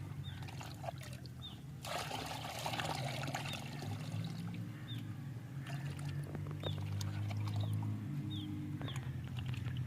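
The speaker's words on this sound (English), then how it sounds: "Mix 1 part of this fermented liquid with 10 parts clean water" Fermented liquid plant fertilizer pours steadily into clean water, a continuous close trickle and splash lasting throughout with a low rumble underneath.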